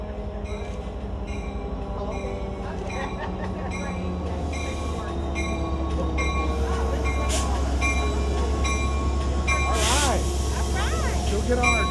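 Passenger train on the DFW line rolls along with a steady rumble, rattles, squeaks and occasional wheel squeal, heard from inside the car over nearly twelve seconds, with a faint chime and metallic clanks near the end.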